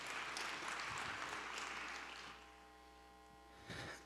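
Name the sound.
audience applause welcoming the speaker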